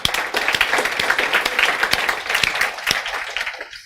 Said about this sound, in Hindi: सो शुभम जैन के लिए एक बार ताली बजा दो